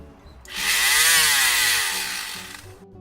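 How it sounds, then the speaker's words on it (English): A handheld power sander runs across a plywood panel in a van build, a loud whirring buzz rising as it bites in, holding for about two seconds and then winding down as it lifts away. "The sander does the work."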